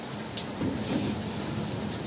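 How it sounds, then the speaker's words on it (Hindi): Heavy rain pours down outdoors, a dense, steady hiss that stays loud and unbroken throughout, with no voices over it. "बारिश आ चुकी है बाहर, बहुत ही अच्छी बारिश आ रही है"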